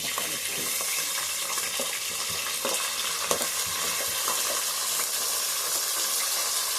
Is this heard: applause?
no